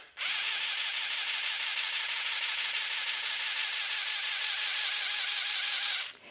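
A motorized cord maker twists three colored threads together, giving a steady, even high-pitched whir that starts abruptly, runs unbroken for about six seconds and stops sharply.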